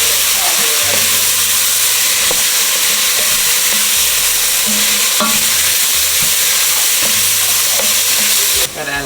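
Mirepoix sizzles loudly in a hot pan while being stirred, with a steady bright frying hiss and periodic scraping clinks of the utensil throughout, cutting off abruptly at the end.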